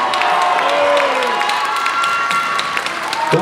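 An audience at a bodybuilding and fitness championship in Vantaa cheers and shouts loudly, with whistles and scattered applause rising in a continuous crowd roar.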